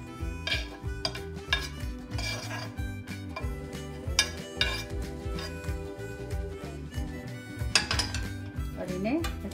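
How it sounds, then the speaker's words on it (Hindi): A spoon stirs chopped vegetables into cooked rice in a pan for veg fried rice, giving repeated close scraping and clinking against the metal over a steady musical background. "अब हम गैस को ऑफ कर देंगे और इन चावलों में मिक्स करेंगे कटे की हुई सारी सब्जियां"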